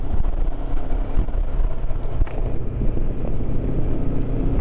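Loud, continuous wind buffeting and low engine rumble from a riding 2022 Honda CB500X motorcycle on a windy day fill the whole stretch, with no talking.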